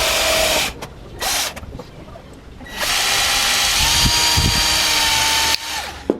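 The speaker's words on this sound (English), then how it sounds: "Am I gonna pre-drill this or no?" A power drill pre-drilling a hole for a loudspeaker foil jig whirs in short bursts, then runs steadily for a few seconds, its pitch holding high before stopping abruptly.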